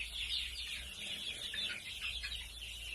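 Young month-old Thai native chickens in a farm coop, a steady chorus of soft clucks and chirps close by, continuous over a low background rumble.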